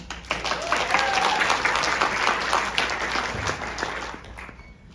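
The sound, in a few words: audience applause welcoming panel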